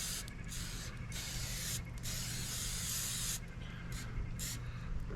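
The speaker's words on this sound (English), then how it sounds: "we're using non-stick cooking spray, butter flavored" Butter-flavored non-stick cooking spray hisses from a can into a 6x9 baking pan at a campsite, in several close, loud bursts separated by short pauses.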